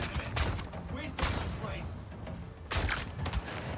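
Gunfire erupts in the video game Avatar Frontiers of Pandora, loud bursts of shots and thuds in a few clusters, with a voice talking over the combat.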